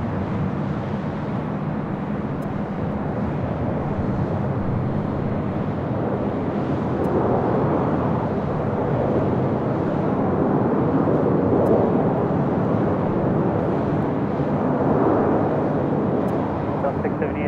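Airliners arriving and departing at LAX airport, heard as a continuous broad jet roar that swells gently and holds steady for the whole stretch, loud and fairly close.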